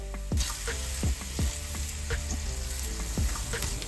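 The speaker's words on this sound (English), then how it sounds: "Grate in the ginger and add in the garlic. Fry until fragrant, making sure not to burn the garlic." Grated ginger and garlic frying in a pan for vegan lentil dahl, a bright crackling sizzle punctuated by several sharp scraping strokes of a utensil stirring, close and uninterrupted by speech.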